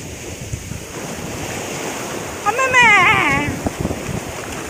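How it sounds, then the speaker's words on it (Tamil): Ocean waves crash and wash continuously on Manjeshwar beach in Kerala, with wind buffeting the microphone and a voice speaking over the surf as a bigger wave swells louder midway. "இப்போ பார்த்தீங்கன்னா பெரிய ஒரு அலை வந்துச்சு"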